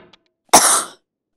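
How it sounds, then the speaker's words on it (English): A single sharp cough bursts out close up and loud, with a faint breath before it and silence after. "I'm currently coughing because I snorted pills earlier"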